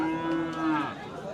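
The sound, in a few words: calf mooing at cattle market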